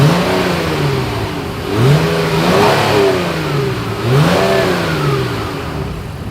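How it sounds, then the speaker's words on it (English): A 2020 Honda Pilot's V6 exhaust revs twice from idle, each blip rising sharply in pitch then falling back, recorded close and loud with no talking. "As always, here is that exhaust clip."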